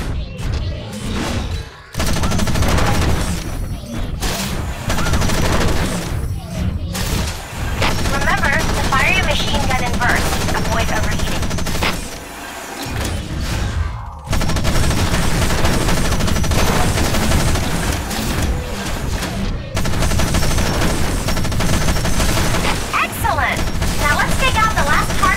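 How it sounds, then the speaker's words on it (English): Machine gun fire from a Wanzer mech in Front Mission Evolved, loud sustained bursts of rapid shots with short gaps between them, mixed with booming impacts and a faint voice now and then. "The machine gun is equipped in your right hand. Shoot the targets as they pop up."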